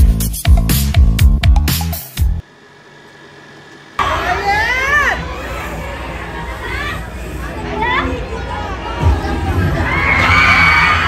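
Fans scream and shout at a live concert, a dense high-pitched crowd roar swelling after a brief lull that follows loud musical hits, with piercing shrieks rising over the din throughout.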